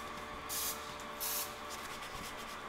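Two short, sharp hissing bursts from a spray can in a kitchen, a pause between them, then softer fainter spurts over a quiet background.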